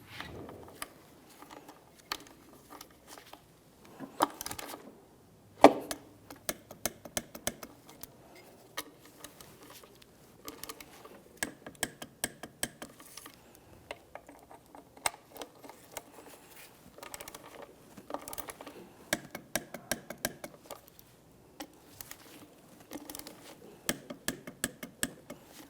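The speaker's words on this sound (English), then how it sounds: "Let's just go around one more time just to confirm it's properly torqued." A torque wrench tightens the throttle body bolts on a 2013-2020 Ford Fusion 2.0L I4, giving sparse, faint ratcheting ticks and clicks in short clusters with quiet gaps between them.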